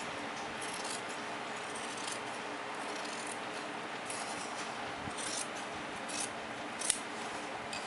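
Scissors cutting chudidar top fabric, a continuous close rasping snip-and-slide of blades through cloth, steady and fairly quiet with a small click near the end.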